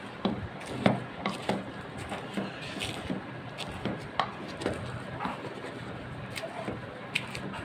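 Dried chillies being mashed together for a shrimp shutki bhorta, a close series of irregular soft pounding and crushing knocks over a busy kitchen background, with no talk.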